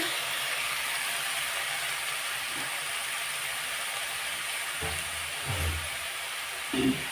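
Food frying in a pan in a home kitchen makes a steady, even hiss throughout, close and moderately loud, with a couple of brief utensil knocks near the end and no speech.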